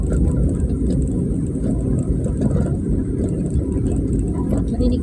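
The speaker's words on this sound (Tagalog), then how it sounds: "Narinig ko talagang sasakyan ko sa baba" A car engine rumbles steadily from below on a road, a continuous low drone with no clear revving.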